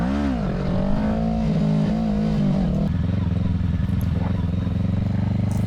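Engine of a stock 2020 Kawasaki Ninja 650 motorcycle in an empty parking lot, a loud rising and falling rev with strong whining tones that settles into a steadier lower drone, a voice faintly under it.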